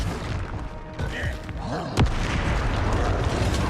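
A Bombarda spell blast in Hogwarts Legacy sets off a sharp booming impact amid a chaotic spell-casting fight, with a crackling burst and thuds over continuous game noise.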